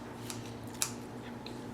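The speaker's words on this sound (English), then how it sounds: "So now I'm cutting up colored cherries." Kitchen scissors snip candied colored cherries for a fruit cake, giving a few faint, sparse clicks against a quiet room hum.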